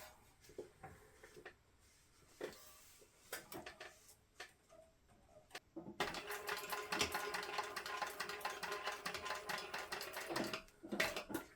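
A sewing machine bastes elastic onto a fabric flap, starting with scattered faint clicks and taps, then running in a steady rapid stitching chatter for several seconds before a final few clicks.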